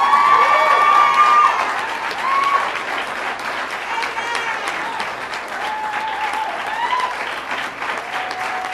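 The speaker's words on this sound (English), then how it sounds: "Another round of applause for the men and women of law enforcement." Loud applause from a large crowd at a press conference, steady clapping throughout with some cheering and voices mixed in.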